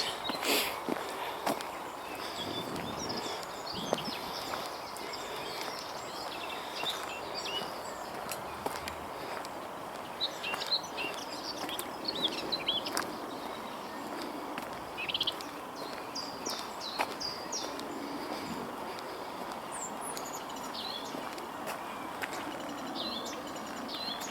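Outdoor birds chirping and calling intermittently from nearby on an April afternoon walk, short faint tweets scattered over a soft steady background with occasional rustle and footsteps.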